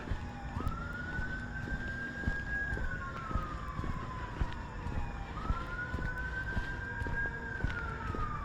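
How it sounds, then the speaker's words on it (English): Emergency vehicle sirens wail through the night outdoors during a warm summer walk, a rising and falling two-tone sweep repeating steadily at moderate distance over a constant hum of traffic and screeching machinery. "Also got sirens."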